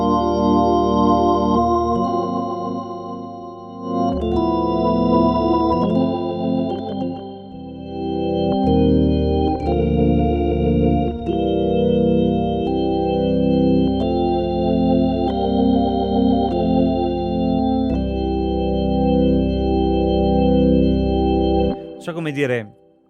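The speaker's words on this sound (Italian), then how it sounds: "è molto vicino a quello che è il suono di un Hammond" A Legend KeyB organ clones the sound of a Hammond organ, playing sustained chords that shift every second or two, with a rich, steady drawbar tone and a sharp cutoff at the end.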